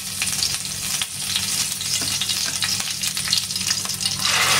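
Curry leaves dropped into hot oil in a pan for tempering a Malvani bangda fish curry, sizzling and crackling loudly and steadily with no voices.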